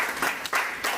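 A brief burst of audience clapping rises and falls in quick surges at a retirement ceremony for a college professor at J.J. College, Gaya. The applause is close and fairly loud, with no voice heard.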